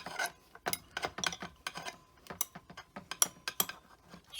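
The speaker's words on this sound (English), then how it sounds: "I'll take a little wrench, and I'll tighten this guy down." A small hand wrench tightens a bolt while mounting solar house numbers, giving a run of short, close metallic ratcheting and scraping bursts in an uneven rhythm.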